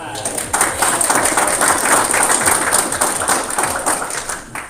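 Applause from the audience at a county mayors' coalition meeting breaks out after a brief pause and continues as a steady, fairly loud patter of many hands before tapering off.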